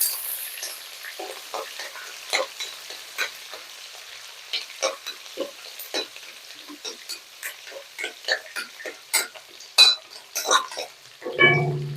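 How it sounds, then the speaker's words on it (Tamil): Small shallots frying in a pan for pepper rice, a steady soft crackle broken by many short close clicks and scrapes, ending with a brief louder clatter. "இப்போ வெங்காயம் நல்லா ஒரு வணங்கட்டும்"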